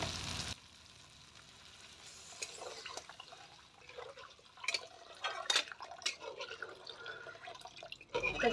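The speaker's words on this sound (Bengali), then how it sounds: "আমি এখন দিয়ে দিব জল" Water goes into a frying pan of cooked-down spices for a pumpkin-leaf fish curry, with soft drips and a liquid sizzle that swells into bursts of bubbling and stirring, close and moderately loud.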